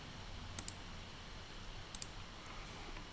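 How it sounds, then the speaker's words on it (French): A computer mouse in Adobe software gives two faint, quick double clicks about a second and a half apart over steady background hiss. "Je clique sur OK."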